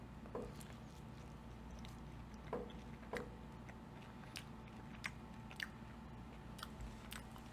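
Quiet crunchy bites and chewing of a Chuck E. Cheese pepperoni frozen pizza, a few soft crisp clicks spaced out over low background hum, close to the mouth.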